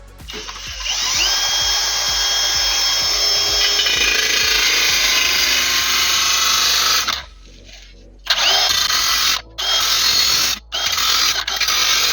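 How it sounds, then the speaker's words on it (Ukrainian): A power tool cuts a wooden lath into strips, starting with a few rapid ratcheting clicks, then a loud, steady whine that breaks off into short bursts with brief pauses. "Довжину цієї Лати і будемо різати на полоски"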